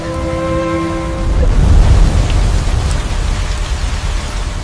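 Heavy rain pours down steadily, a dense broadband hiss that swells louder in the middle, with a faint tonal hum fading out early on; no one speaks.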